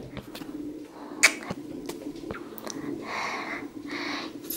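A new pet bird in a home cooing softly in close, low bursts, with a few clicks and light household noise around it and no talk.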